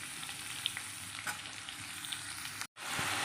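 Onions frying in oil for onion rice, a steady close sizzle with light crackle and occasional stirring, then a brief cut to silence before the frying resumes.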